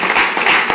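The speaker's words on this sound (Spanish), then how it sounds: "Entiendo que los aplausos no son de finalización" Audience applause at a round-table panel discussion on urban agendas, a dense, steady wash of many hands clapping for under a second with no voices over it.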